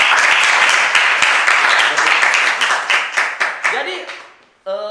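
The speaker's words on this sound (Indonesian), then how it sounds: "tepuk tangan buat kita semua." Seminar audience clapping at a motivational talk, a thick burst of applause that thins into a few separate claps and dies away, followed by a man resuming speech.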